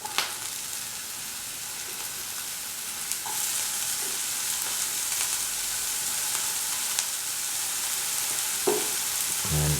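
Tomatoes added to onions frying in a pan while cooking Maggi masala noodles, a steady soft sizzle with faint stirring clicks and a brief scrape near the end.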